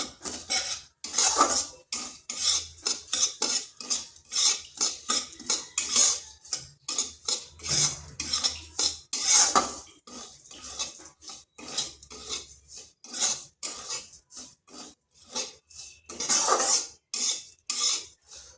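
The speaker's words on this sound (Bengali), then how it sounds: "চিনিটা এতক্ষণ নাড়তে হবে যতক্ষণ না চিনিটা গলে যাচ্ছে" Spoon scraping and clinking against a pan while sugar is stirred until it melts, a busy irregular rhythm of metallic scrapes and taps, close and alone with no talk.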